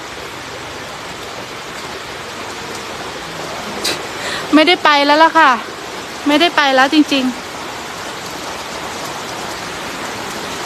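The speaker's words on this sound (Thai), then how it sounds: "แต่ฝนก็มาอีกรอบนึงแล้วค่ะ" Rain falls steadily outdoors in a continuous broadband hiss throughout, while someone speaks briefly in the middle over it.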